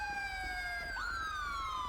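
Wailing ambulance siren in GTA 5, a loud electronic tone that sweeps down and then rises again, continuous over low road rumble with no talk.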